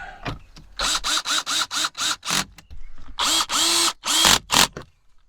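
A power drill drives screws into interior trim on a 2025 Subaru Forester, in a quick series of short, close whirring bursts separated by brief pauses.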